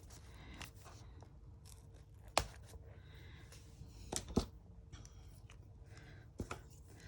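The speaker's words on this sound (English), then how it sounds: "Let's try these little cuticle scissors." Small cuticle scissors snip through the old binding of a century-old book, making scattered crisp clicks and cuts with a few louder snaps, close and quiet, amid light rustling.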